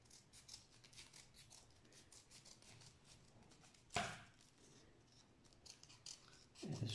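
Scissors snip through paper for kirigami in a run of small, quick close cuts that continue through the stretch, with one sharper crisp snip in the middle.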